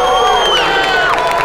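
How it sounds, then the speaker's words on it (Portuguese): A packed crowd at a combat-sports fight night on a samba school's court roars and cheers loudly and continuously, with shrill whoops and shouts rising above the din. "Torcida empolgada."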